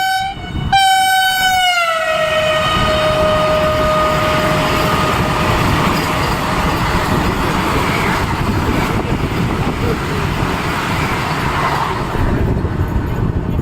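A Vande Bharat express train sounds a long, loud horn blast, then rushes past with a sustained roar and rattle of carriages that continues steadily to the end.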